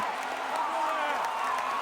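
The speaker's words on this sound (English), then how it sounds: "Crowd getting riled up, Novak Djokovic locked in." A tennis crowd at the Australian Open stirs and cheers during a Novak Djokovic match, a steady roar of voices and scattered clapping.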